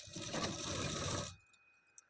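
A sewing machine stitching the sleeve of an elbow-length blouse, running in a steady, fast mechanical whir for over a second before stopping abruptly, followed by a few faint clicks.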